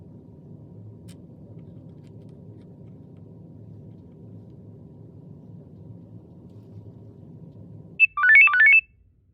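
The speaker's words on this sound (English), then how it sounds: "Okay, phone just went off" A low steady rumble runs for about eight seconds, then a phone ringtone cuts in near the end with a short bright melodic trill, close and clear, with no talking.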